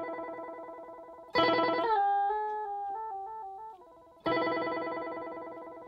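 Electric guitar through a TC Electronic Corona Chorus pedal set to maximum speed, ringing chords with a fast warbling vibrato that trills like a phone ringtone: one chord, a struck chord decaying into wobbling notes, then another chord, loud and close.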